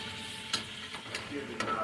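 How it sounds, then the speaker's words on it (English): Steady sizzling of chicken tenders frying in hot oil, with a few sharp crackles and pops and the scrape of stirring, at a fairly quiet level. "we're just going to keep frying this for a minute"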